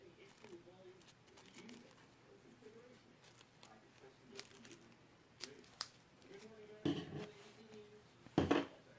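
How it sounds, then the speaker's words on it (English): Scissors snip through a paper cover, cutting close around printed writing, with quick crisp cuts and a few louder snips near the end under a low speaking voice. "So I just cut around here as close as I can, get as much as the writing off."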